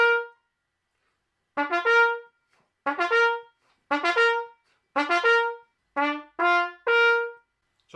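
A brass instrument plays a short passage from a grade 3 piece, the Easy Winners, with a few spaced notes and then a quicker run of detached notes, clear and solo in a quiet room.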